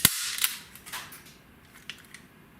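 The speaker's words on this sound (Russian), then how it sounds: "Следующий инструмент — это вот такой вот степлер. Тоже ему уже несколько лет, он сделан полностью из металла и также работает отлично." An all-metal stapler fires with one sharp, loud metallic snap at the start, followed by a few fainter clicks and handling taps in a quiet room.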